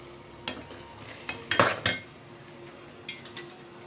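Stirring and clinking in a pan as dal is added to mashed tomato masala with chopped green chillies, dhaba-style urad dal; a few sharp scraping clanks, loudest in a cluster near the middle, over a faint steady sizzle.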